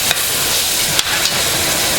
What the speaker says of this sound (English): So I put this in and kind of stir it up.